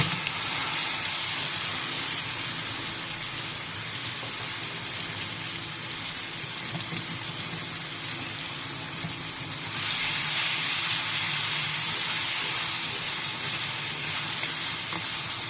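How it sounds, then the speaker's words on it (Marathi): Steady, dense sizzling of guava pieces frying in hot tempering oil with fenugreek, fennel and red chillies, continuous and close, with a slight surge in intensity partway through. "आता फोडणी चांगली तयार झालेली आहे। यामध्ये घालूया पेरूच्या फोडी।"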